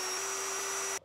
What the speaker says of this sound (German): Wir müssen noch mal bohren.